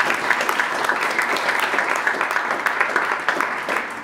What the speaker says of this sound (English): we can give a quick round of applause